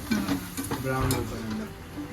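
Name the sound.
cashews and onion frying in oil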